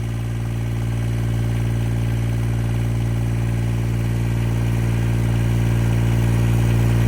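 A Green APU auxiliary power unit engine idles steadily in a low, even drone, close and constant throughout with no talking.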